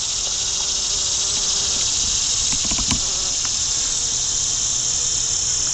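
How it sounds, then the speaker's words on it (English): Bees buzz around flowering Joe Pye weed in a wetland wildlife refuge, a steady high insect drone over a quiet outdoor background, with a few faint clicks near the middle. "It is full of bees though."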